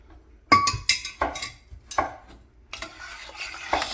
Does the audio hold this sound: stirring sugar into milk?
yes